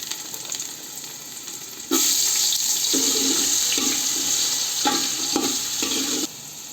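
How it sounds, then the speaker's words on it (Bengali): Carrots sizzle as they lightly fry in a pan of oil, cooked alongside potatoes for a chicken biryani. A steady, close hiss is broken by brief stirring or clattering bursts. "গাজরটা হালকা করে ভেজে নিব"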